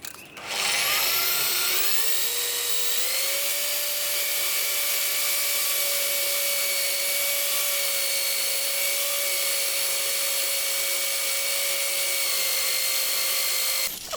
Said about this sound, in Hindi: इन सभी जगहों पर ड्रिल मशीन की मदद से छेद कर दिए